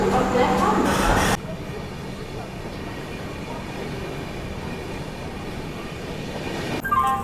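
The Kushinagar Express pulls out of Nashik Road station, a low steady rumble of the moving train heard from on board, with a louder burst of noise at the start and a brief rise near the end.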